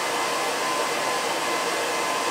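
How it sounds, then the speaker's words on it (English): Welding on a motorcycle's leaf spring suspension gives a steady, loud, close hiss that holds unbroken throughout. "So now it's fit up, we weld."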